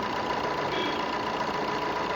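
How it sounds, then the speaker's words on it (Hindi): A car engine with faulty Bosch injectors idles roughly with a steady, dense mechanical rumble, loud and close, with no talking. "ये देखो अभी गाड़ी चालू की है, इंजन देखो कैसे हिल रहा है"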